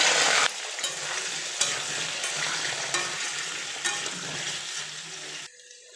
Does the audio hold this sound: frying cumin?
yes